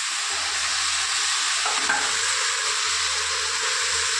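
Food being fried and stirred in a pan, a dense, steady hiss of frying oil throughout, loud and close, with a brief scrape partway through and no talking.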